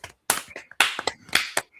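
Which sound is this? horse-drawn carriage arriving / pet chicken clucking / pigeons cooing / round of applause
round of applause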